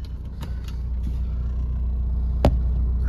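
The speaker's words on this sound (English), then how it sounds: "She runs pretty, you know, pretty quiet and pretty smooth for an old diesel." A 2005 VW Jetta MK4 TDI diesel drives along with a steady low engine rumble from inside the cabin, smooth and fairly quiet, broken by a few brief clicks and a knock.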